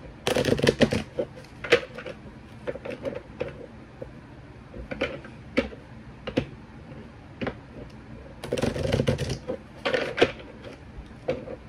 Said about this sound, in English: I'm gonna shuffle up this tarot, romance tarot deck